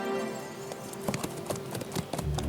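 Horses galloping in a cartoon, a rapid, loud run of hoofbeats with a rumbling, busy background.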